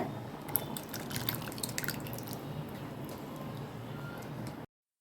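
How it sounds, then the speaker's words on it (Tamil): Kumbakonam kadappa curry simmering in a pot as it comes to a boil, a steady close wet bubbling with small popping drips throughout, no voices. "இது நல்லா கொதிஞ்சு ஒரு கொதி வரட்டுங்க."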